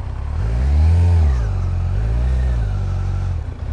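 A motorcycle engine drones loud and close while riding in open country at sunset, its pitch rising and falling through two revving swells before it eases off.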